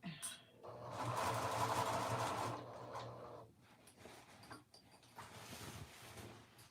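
A sewing machine stitches the facing onto the bottom hem of an Anna dress, running steadily for a few seconds, then easing into quieter, intermittent stitching close by, with no talking.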